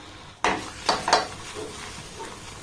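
A mango, milk and sugar mixture is stirred in a pan for a laddu sweet, giving three or four distinct scraping strokes over a faint background hiss.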